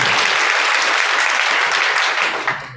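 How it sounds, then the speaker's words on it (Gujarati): A crowd of party workers at a political gathering in a circuit house claps loudly and steadily, a dense burst of applause that tapers off near the end. "બધા માટે તાળીઓ પાડી લો."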